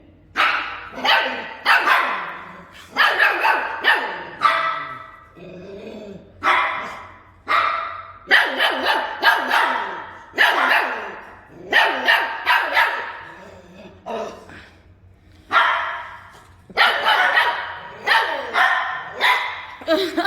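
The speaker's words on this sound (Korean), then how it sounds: "지들도 저래 짖네" Several dogs at a dog farm bark repeatedly in bursts, loud and close, with yips and whimpers mixed in over about twenty seconds; a voice speaks at moments among the barking.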